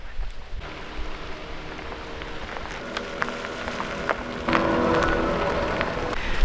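Heavy rain downpour on a trip in Jasper, a steady broadband hiss of drops on surfaces and vehicle, growing louder and denser toward the end, with scattered sharper drips.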